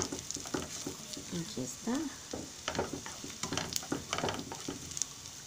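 Onion and garlic sautéing in a pan give a soft, steady sizzle with clinks and stirring scrapes, quiet and close, while someone speaks briefly.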